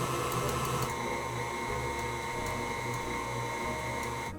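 Stand mixer with a whisk attachment beating eggs and powdered sugar for lamington sponge, a steady, loud motorized whir with constant high whine, running continuously throughout.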